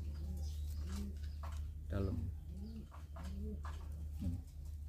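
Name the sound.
pigeon cooing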